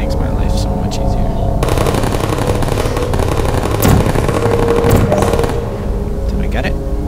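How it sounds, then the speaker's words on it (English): Rapid sustained automatic gunfire from turrets in the Portal video game, a loud continuous rattling burst that fills most of the moment, with brief gaps and sharper pops near the end. "Time to take out all the turrets, which is pretty boring."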